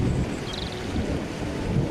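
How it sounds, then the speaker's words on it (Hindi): Steady rain pours in a cartoon storm, with a low rumble of thunder rolling beneath the dense hiss throughout. "इतनी बारिश हो रही है"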